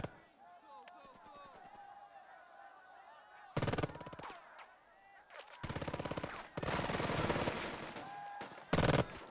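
Bursts of machine-gun and rifle fire from the WWII wargame Burden of Command at Anzio, several loud crackling volleys separated by quieter stretches with softer battlefield noise in between.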